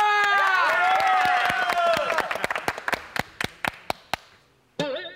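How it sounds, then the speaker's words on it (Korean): Studio audience on a Korean variety quiz show clapping and cheering, starting as a loud burst mixed with voices that thins into a run of separate sharp claps before speech resumes. "박수"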